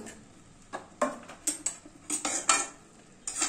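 A utensil stirs vegetarian cabbage curry in a pan, with repeated scraping clinks in an irregular rhythm over a soft sizzle, close and alone.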